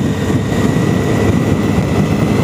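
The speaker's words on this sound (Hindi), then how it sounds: "ये गई हायाबुसा निकल के।" A Suzuki Hayabusa superbike, fitted with a loud aftermarket exhaust, rides past on a cold Sunday ride as a steady, loud broadband engine roar that fills the whole stretch without any talk.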